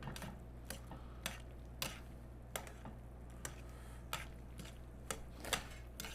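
Faint, steady clinking and scraping as pasta is stirred and the pan shaken with egg yolk for Alfredo, a series of light metallic taps over a constant low hum, with no talking.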